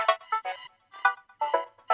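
Short bright synthesizer clicks from a Pro VS Mini in an uneven pattern, clean and close, each burst quickly cut off with gaps of silence between.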